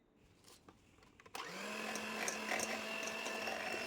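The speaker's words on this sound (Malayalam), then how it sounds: "ഒന്നും കൂടി ബീറ്റ് ചെയ്ത് കൊടുക്കാം." Electric hand beater whirring steadily through plum cake batter after powdered sugar is added, starting abruptly after a quiet moment and running loud and continuous close by.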